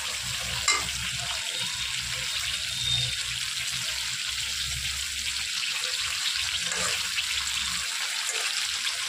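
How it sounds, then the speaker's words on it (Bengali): Shrimp fry lightly in oil in a pan, giving a steady soft sizzle and crackle that holds at an even level throughout, with a few faint stirring scrapes and no voices. "একদম হালকা করে ভাজবো আমি চিংড়ি মাছগুলো, যাতে মাছগুলো রাবারের মতন শক্ত না হয়ে যায়।"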